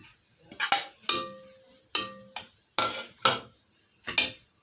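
A spoon clacks and scrapes against a bowl of mashed boiled potatoes in about six sharp, separate strokes with quiet gaps between them.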